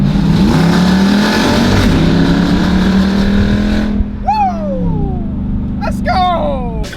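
A Dodge SRT8 accelerates hard with a loud, rising engine roar that holds high before dropping away, followed by sharp whining squeals as it eases off, with a voice present alongside.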